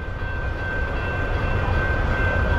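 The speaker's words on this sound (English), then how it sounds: "the train stopped right there" A train rumbles steadily past on a street in Old Orchard Beach, Maine, giving a loud, continuous low roar with a faint high tone held throughout.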